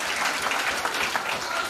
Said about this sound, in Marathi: टाळ्या वाजवून कौतुक करायचं आहे